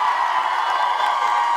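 Rally crowd at a gun-control march cheering and whooping in a steady, loud wash of voices, with scattered shouts and some clapping running throughout the short burst.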